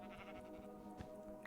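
Sheep in the Sunlit Valley farming video game bleating faintly, one short wavering call alone against a quiet background.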